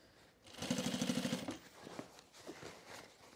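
A sewing machine stitches jeans in a short, rapid burst of evenly spaced needle strokes lasting about a second, then stops, leaving faint rustling and handling noises.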